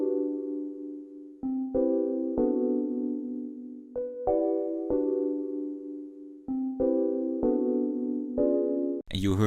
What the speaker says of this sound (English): So the chord progression in its totality sounds like this.